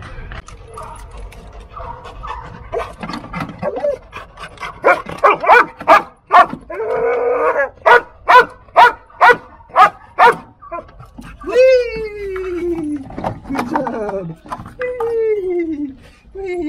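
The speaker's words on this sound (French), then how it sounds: "dès qu'il aboie 10 fois, eh ben, je dois lui donner ça" Rescue dog in search-and-rescue training barking in a steady series of about ten sharp barks, then whimpering and yipping, with people talking nearby and around the barks.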